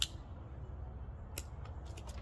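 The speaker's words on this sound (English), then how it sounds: "I might have to trim off these side shoots right here" Small snips from scissors or pruners trim side shoots off pussy willow branches, a sharp cut at the start and a quick cluster of clipped clicks near the end, close and crisp in a quiet room.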